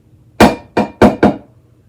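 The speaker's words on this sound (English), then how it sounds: "we're going to tap it on the sink just to get any excess flour out" A metal loaf pan dusted with flour rapped against a kitchen sink: four sharp, loud knocks in quick succession, the second pair closer together, with short ringing decays and no voices.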